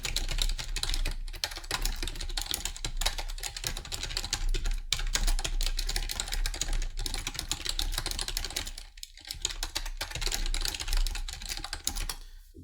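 Rapid, steady typing on a computer keyboard entering a chat message during a chess livestream, dense clicking keystrokes running continuously and fairly close, with only brief pauses.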